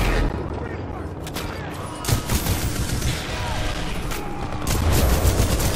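Gunfire in the Titanfall 2 campaign aimed at a Reaper, with repeated shots and booms in a busy, loud battle mix, and a voice talking over parts of it.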